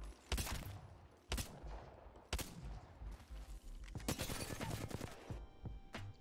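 Gunfire in the video game Apex Legends while the player bunny hops, sharp loud bursts of shots in irregular clusters separated by brief pauses, close and alone with no talk.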